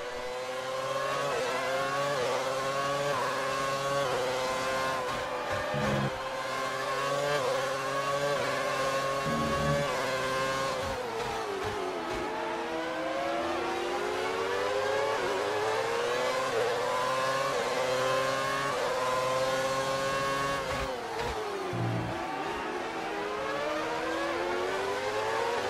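A 2010 McLaren Formula 1 car in the racing game F1 2019 at Bahrain screams through rising and falling revs, with sharp drops at gear changes and braking, continuous and fairly steady in level, no talking.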